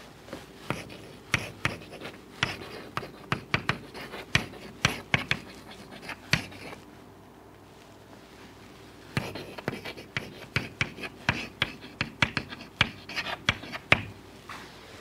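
Brisk writing strokes during a physics lecture, likely chalk or marker on a board, in rapid irregular bursts of taps and scratches with a pause in the middle before the writing resumes, close and clear.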